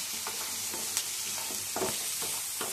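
Steady hiss of frying in oil with turmeric just added, broken by soft scraping stirs and a few light clinks of a utensil against the pan.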